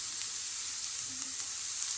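Chopped capsicum and carrot fry in a pan for Schezwan rice, giving a steady, close hissing sizzle that runs evenly throughout with faint stirring ticks.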